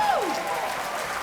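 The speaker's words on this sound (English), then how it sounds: "One more round of applause for us." A concert audience at the Scranton Cultural Center gives a band a brief, loud round of applause, with a rising cheer at the start of the clapping.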